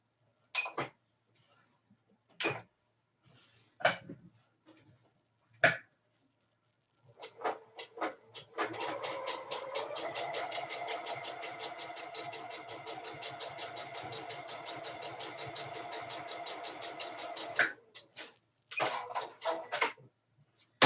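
A sewing machine re-stitches a previously unpicked seam on a quilt block, giving a steady, close, mechanical whir for roughly nine seconds, framed by short bursts of stitching and handling before and after.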